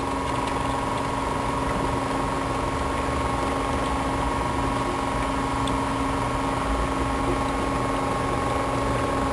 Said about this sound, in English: Oh, I can hear it bubbling.